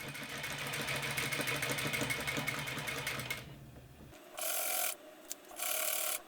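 A sewing machine stitching a band of gold fabric runs steadily for about four seconds, then stops, followed by two short high-pitched hissy bursts, heard close up with no talking.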